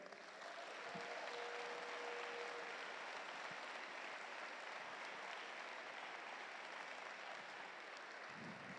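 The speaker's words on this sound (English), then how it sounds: "So let's give all of our teams here today a round of applause." An audience at a robotics district event applauds, a dense, even wash of clapping that holds steady across the whole span and fades slightly at the end.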